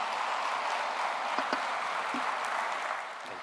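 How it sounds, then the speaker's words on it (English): Sustained applause from a conference audience at a poultry industry knowledge day, a dense steady clatter of clapping that holds for several seconds before easing slightly at the end. "Please, a big round of applause to Gopi,"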